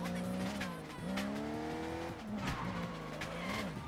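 A car in the video game Sleeping Dogs drives hard, its engine pitch sliding up and down through gear changes. Repeated tire squeals and skids rise over the engine note.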